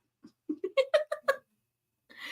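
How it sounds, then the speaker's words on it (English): A cat gives a quick run of about six short, close meows in a rising, chattering series in an otherwise quiet room, followed by a breathy sound near the end. "Sounds like a plain cat."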